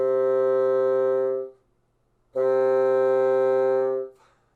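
A bassoon holds two sustained notes separated by a pause, the second entering louder and steadier, with a clean reedy tone and no voices.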